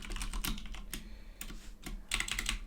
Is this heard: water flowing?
no